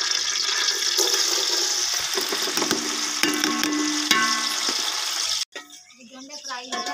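Onions fry steadily in a village kitchen pan for an aloo pulao, a continuous hissing sizzle with a few sharp crackles, before it cuts off abruptly near the end and quieter clatter follows.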